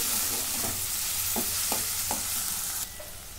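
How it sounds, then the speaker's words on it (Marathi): Tomatoes sauté with fried onion in a pan under a dense, continuous sizzle, with several brief scraping stir strokes close by. "आता याच्यामध्ये टोमॅटो टाकून घेते. हे पण असं 2 मिनिटं परतून घेते."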